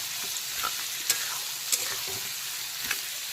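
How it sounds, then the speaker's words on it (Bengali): Chopped onions frying in oil in a pan, a soft steady sizzle with a few sharper scrapes and clinks of a spoon stirring, fairly quiet and close, with no talk. "এখন সবার প্রথমে পেঁয়াজ কুচিটাকে খুব ভালো করে ভাজা ভাজা করে নিতে হবে।"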